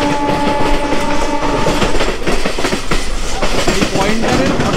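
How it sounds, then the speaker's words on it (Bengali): A local train runs over railway points near Dum Dum Cantonment where the tracks split. Its wheels clank heavily in repeated bursts over a constant loud rumble, heard close from on board, with a faint tonal hum early on. "এই পয়েন্টারের ঘটাং ঘটাং আওয়াজ বন্ধুরা হেভি লাগে আমার শুনতে।"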